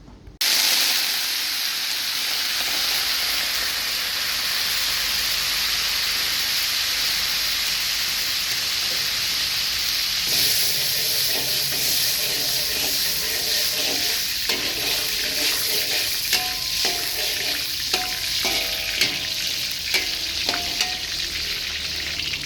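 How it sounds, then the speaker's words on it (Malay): Dried chilies and ginger sautéing in hot oil for a kampung-style turmeric chicken dish, a loud continuous sizzle and hiss with crackling bursts and occasional stirring scrapes, no talking. "Mula-mula kita tumis dulu cili kering dengan halia"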